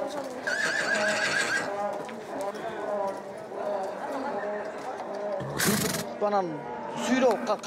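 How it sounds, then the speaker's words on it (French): At a Kyrgyz livestock market, a wild mare neighs and whinnies in several loud, close calls, with hooves clip-clopping and a crowd chattering throughout. "C'est un cheval sauvage."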